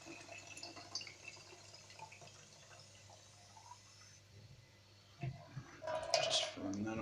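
Tap water runs and trickles into an old cordial bottle being filled for the fridge, faint and close with kitchen background noise, splashing growing louder toward the end.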